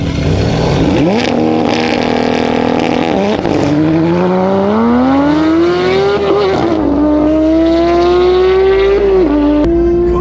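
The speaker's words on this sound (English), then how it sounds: "The Porsche now will go against a 700 horsepower C63" Porsche 911 GT3 racing a 700 horsepower Mercedes C63, a loud close engine howling as it revs up through repeated gear changes, each shift dropping the pitch before it climbs again.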